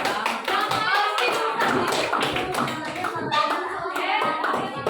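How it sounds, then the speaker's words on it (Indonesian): A group claps hands together in a classroom-style gathering, a fairly close and busy patter of claps that rises and dips over several seconds, with faint voices mixed in. "Tepuk tangan lagi dulu."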